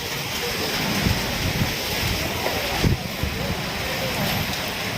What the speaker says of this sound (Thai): ลมแรงมากนะครับ ลมแรงมาก